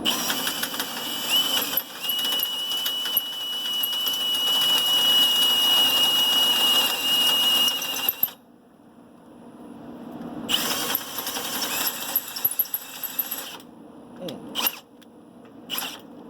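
A drill bit bores a hole for REESE trailer equipment, whining steadily for a long stretch, then stopping and restarting in shorter runs, with brief talk in the pauses.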